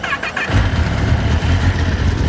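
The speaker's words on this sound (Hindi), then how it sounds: "तो यार बाइक स्टार्ट हो चुकी है" A 2022 Kawasaki ZX-10R sportbike engine cranks briefly with a starter whine, then catches and settles into a loud, close, rumbling idle.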